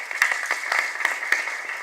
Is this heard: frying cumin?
no